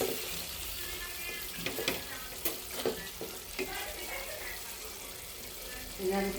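Spices sauté in a pan with fish pieces for a winter bottle gourd curry, a steady soft sizzle with intermittent scrapes and clinks of a spoon stirring, while someone speaks over it.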